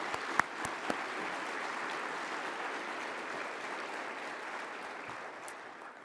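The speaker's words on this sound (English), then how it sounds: "If we could give all the partners that made NatCon happen a round of applause" Steady applause from a convention audience at the NatCon conference, a dense even patter of many hands clapping that holds at moderate loudness for several seconds with a few sharper claps near the start.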